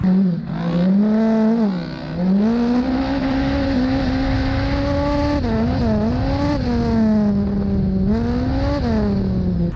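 An off-road race vehicle roars at full throttle on a professional dirt track, the engine loud and close, its pitch rising and falling through repeated revs and shifts without pause.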